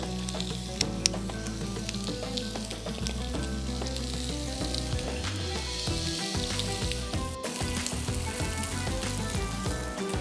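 Constant loud sizzling from a hot cast iron pan, crackling and spitting throughout, with low hum and clatter underneath and no one speaking.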